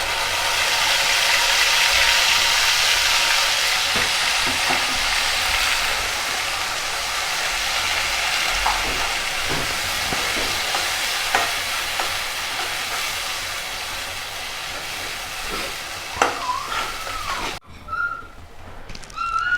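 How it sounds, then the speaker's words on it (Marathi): Tomato and chili puree hits a hot pan for bhandara-style rasa batata potato curry, giving a loud, steady broadband sizzle that slowly settles over most of the clip, then cuts off sharply near the end, followed by a short whistle-like tone. "आता यामध्ये टाकूया आपण बारीक केलेली टोमॅटोची आणि मिरचीची पेस्ट प्युरी."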